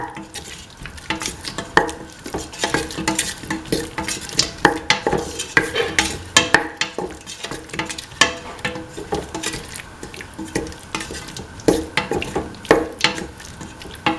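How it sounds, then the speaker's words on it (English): A spatula scrapes and clatters against a pan while a winter melon, tomato and green peas mixture is stirred and sautéed, with irregular metallic knocks over a soft sizzle. "Thoroughly mix the salt. Keep on sauteing."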